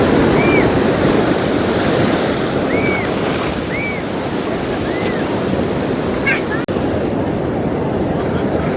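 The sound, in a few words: sea waves at Okha shore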